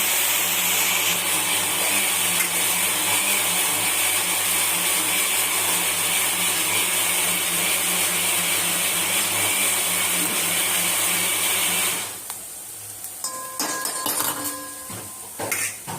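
Kitchen mixer grinder whirs loudly and steadily for about twelve seconds, pulping ginger, garlic, chili, onion and tomato into paste for biryani, then cuts off, leaving scattered clinks and clatter.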